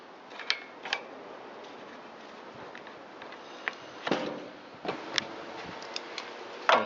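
Bolts on the air filter housing of a Craftsman, Poulan or Husqvarna rototiller being worked loose: sparse metallic clicks and ratchety ticks, a few sharper scraping bursts, close and fairly quiet.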